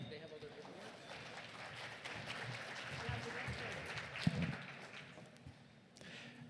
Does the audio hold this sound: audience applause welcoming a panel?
yes